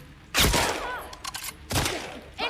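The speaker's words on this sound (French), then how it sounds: "ils viennent d'où ces coups de feu?" Bursts of gunfire in The Last of Us Part II, set in Seattle, with two loud volleys separated by scattered smaller shots and echoing reports.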